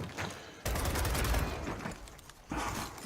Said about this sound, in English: level 1 sentry shooting into the spawn here